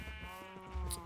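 Sheep bleating on a sheep farm in Minecraft, a short nasal bleat rising over a steady hum of game music, close and moderately loud, with no talking.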